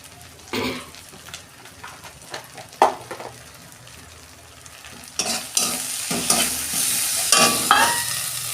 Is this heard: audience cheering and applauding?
no